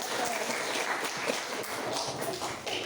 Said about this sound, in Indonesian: Oke, kasih tepuk tangan dulu dong.